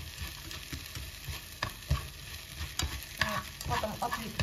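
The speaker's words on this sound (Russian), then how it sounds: "Еще чуть-чуть, где-то, наверное, минутки две его вот так вот поджарить" Rice stir-fried over the highest heat in a pan, a few grains sticking to the bottom: steady close sizzling with irregular scraping strokes of stirring, louder toward the end, no talking.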